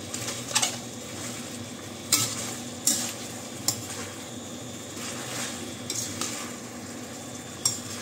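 Beef steak (bistek) frying over high heat, a steady loud sizzle with occasional sharp clinks and scrapes of a utensil against the pan, no voices.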